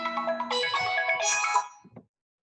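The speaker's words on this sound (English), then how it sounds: "I got a phone call then and just tell them to go away." A mobile phone rings during a coding workshop: a bright, melodic ringtone plays loud and alone for about two seconds before cutting off abruptly.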